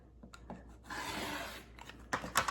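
Scissors slice through t-shirt fabric near the neckline in a soft, steady rasping stretch, followed by a few quick snips and clicks nearby.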